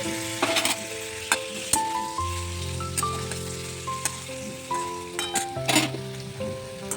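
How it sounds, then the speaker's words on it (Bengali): Paneer fries in oil with a loud sizzle, scraping stirs and clinks of a utensil against the pan, while a steady background hum runs underneath. "পনিরটাও তৈরি করে নেব, ভেজে নিচ্ছি ভালোভাবে"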